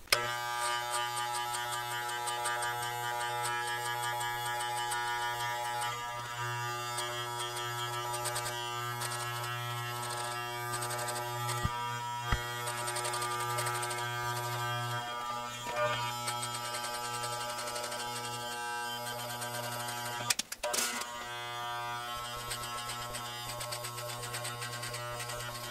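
Electric hair clippers fitted with a number two guard buzz steadily while cutting hair at home, a constant motor whine with brief bumps and clicks as the blades move through thick hair, close to the microphone, no talking.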